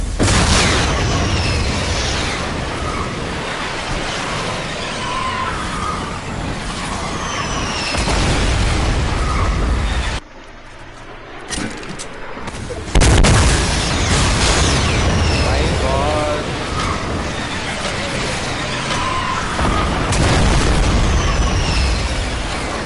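Heavy booming blasts and rumbling explosions from a Fortnite guided missile fill the scene, loud and sustained, with a short quieter gap midway before the roar returns, while players talk over it.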